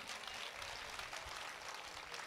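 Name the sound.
audience applause at a poetry gathering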